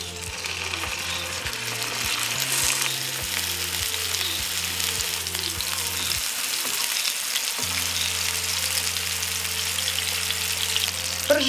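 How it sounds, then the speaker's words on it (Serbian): Pljeskavice, Balkan burger patties, frying in hot oil in a pan, a continuous close sizzle and crackle with a steady low hum beneath, no talking. "Pržit ću ih 2 do 3 minuta sa jedne i sa druge strane"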